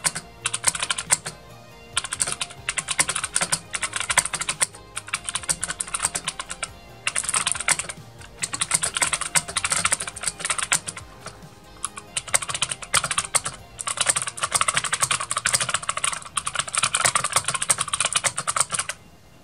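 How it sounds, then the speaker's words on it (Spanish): Fast, forceful typing on a compact Marvo KG901 computer keyboard, dense bursts of loud clacking keystrokes broken by short pauses, heard close up with no talking. "qué tanto suena este teclado cuando uno escribe con ganas"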